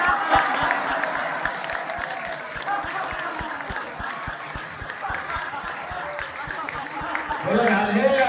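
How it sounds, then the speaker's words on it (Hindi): An audience at a Hindu devotional Radha-Krishna talk on Nandgaon claps hands in a fast, steady rhythm, a loud crowd sound that runs for several seconds and swells near the end. "एक बार दोनों हाथ ऊपर करो और ठाकुर जी को ताली मार के खिलखिलाने का जोर से हंसा दो"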